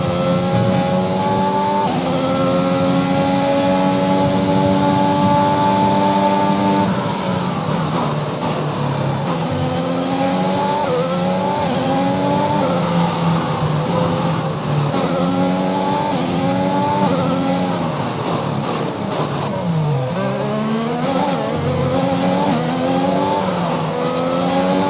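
A Formula 1 car engine in the F1 2021 racing game screams loudly and close, rising through each gear, then dropping sharply on downshifts and climbing again in repeated cycles.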